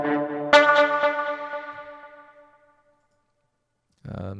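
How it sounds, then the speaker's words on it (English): A cinematic ping from the Galvanizer hybrid sound design library rings out with metallic harmonic tones, struck again several times as it decays into silence, then another tone enters briefly. "So we've got some pings."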